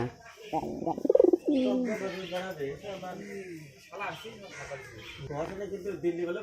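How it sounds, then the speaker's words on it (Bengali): Pigeons coo in a home loft where a red hunting pigeon is kept, throaty calls rising and falling close by as a person talks over them. "শিকারি পায়রা আছে এখানে।"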